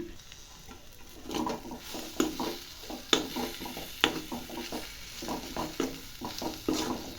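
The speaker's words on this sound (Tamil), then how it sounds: "கொத்தமல்லி சேர்த்து நல்லா கலந்து விட்டுக்குங்க" A spoon stirs chopped coriander through sandwich stuffing in a pan, making soft irregular scraping and tapping strokes with a faint sizzle underneath, close and fairly quiet.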